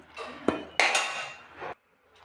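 Cooked coconut mixture for coconut laddu is scraped out of a metal karahi onto a plate, giving a quick series of clinks and rough metallic scrapes that stop abruptly after under two seconds.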